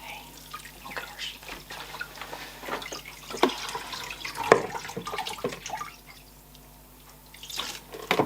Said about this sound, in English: now I'm going to do the final rinse